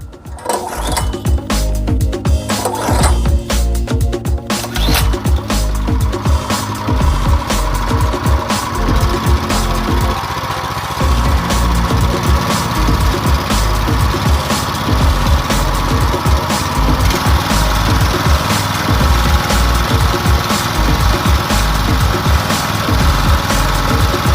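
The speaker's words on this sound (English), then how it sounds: "Pull the recoil starter grip in order to get the engine running" The small engine of a brand-new Simpson 3300 PSI PS60841 pressure washer sputters and catches after a few rough recoil pulls, then runs loudly at a steady, rattling idle for the rest of the clip.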